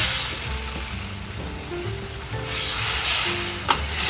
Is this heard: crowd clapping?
no